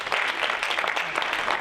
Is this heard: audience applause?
yes